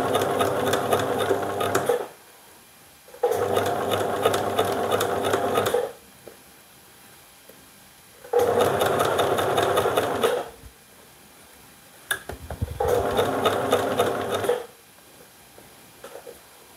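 A sewing machine stitches along a trouser zip in four loud, close bursts of rapid whirring, each lasting a couple of seconds and separated by short pauses.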